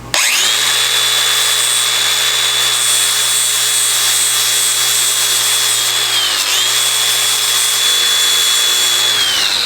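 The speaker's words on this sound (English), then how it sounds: "I'm just gonna try to take a grinder and see if I can shave off that little bit of excess" An angle grinder shaves excess metal off a rebar cutter, a loud, steady high whine running alone for the whole stretch with one brief dip in pitch near the end.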